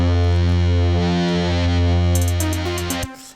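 A heavily distorted, compressed bass note sustains loud and thick with dense harmonics, holding almost flat with barely any decay before cutting off abruptly near the end.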